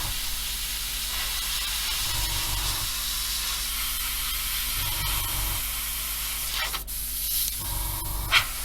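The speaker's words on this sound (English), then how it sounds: "I'm having some troubles with my airbrush today" An airbrush, not working properly, sprays paint onto an Airfix 1/24 F6F-5 Hellcat model kit, giving a steady, close hiss that swells and dips slightly throughout with no talk.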